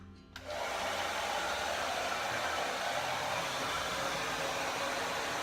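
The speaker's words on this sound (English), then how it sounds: "taking your hairdryer on low heat, so it doesn't have to be that hot" A hair dryer on low heat switches on and blows with a steady, even whoosh of air that holds constant from start to finish.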